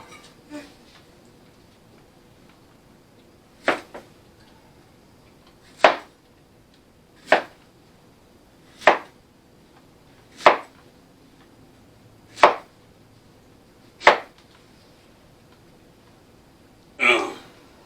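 Sharp knife strokes chopping plantains on a cutting board at a slow, steady pace, about nine distinct chops spaced a second or two apart, close and crisp.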